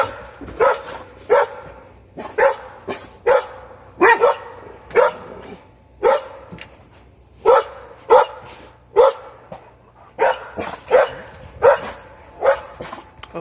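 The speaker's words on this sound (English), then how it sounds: "Oh, look, the dogs." Several dogs barking at a rural property, loud repeated barks coming in irregular bursts through the whole stretch, with a few yips mixed in and no other sound standing out.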